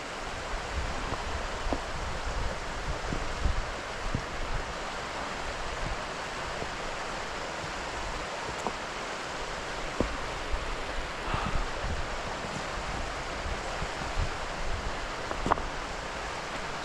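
Careyburn waterfall, a three-tiered fall, pours steadily in a broad, constant rush of falling water, close and fairly loud, with a few faint knocks and no talking.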